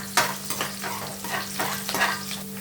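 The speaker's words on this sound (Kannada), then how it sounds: "ಎಣ್ಣೆ ಕಾದಿದೆ, ಈರುಳ್ಳಿ ಹಾಕ್ತೀನಿ." Half an onion frying in hot oil for a tempering, giving a close, steady sizzle broken by brief stirring scrapes over a few seconds, with no voices.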